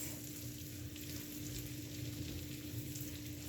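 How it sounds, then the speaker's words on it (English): Mushrooms saute in a frying pan still holding the drippings from fried meatballs. A soft, faint, steady sizzle runs evenly with a low background hum and no talking. "I'm going to saute them in here on this pan where I fried my meatballs"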